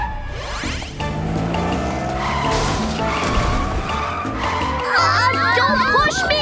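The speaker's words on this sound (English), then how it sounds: "Looks like something's wrong with that car." Cartoon car skidding with squealing tires in a kids' animated show, a busy burst of engine and rising, wavering squeals with children's voices talking and calling out over it.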